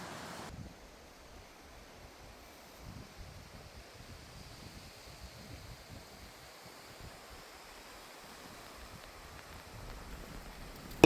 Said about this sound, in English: It was a crazy windy night and even my mosquito net came down